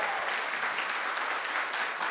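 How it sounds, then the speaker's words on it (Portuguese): An audience at a business training event bursts into dense, sustained clapping that holds steady at moderate volume for about two seconds. "eu quero dar uma salva de palmas aqui à Sandra Souza."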